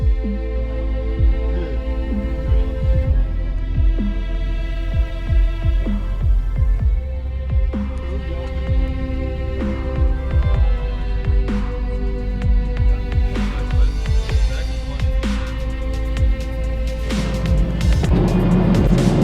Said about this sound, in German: Ich fahr LKW.